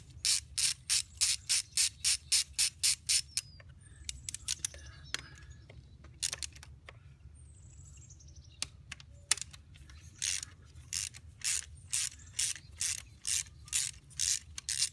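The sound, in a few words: ratchet loosening bolts on VW/Audi 2.0T TSI engine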